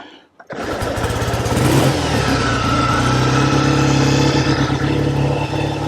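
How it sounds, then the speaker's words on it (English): A 1948 Triumph T100 500cc motorcycle engine catches after a brief start attempt and settles into a loud, steady running note close by, with slight revving throughout and no talk. "500cc Triumph T100, and I'm gonna see if I can get it to start first."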